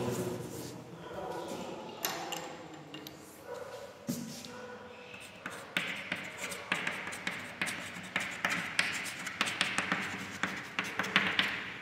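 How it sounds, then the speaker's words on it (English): Marker or chalk writing on a classroom board during a physics lesson on light, heard as a steady run of close taps and scratchy strokes that grows busier and more rhythmic toward the end, with no speech over it. "I write these all things on the board."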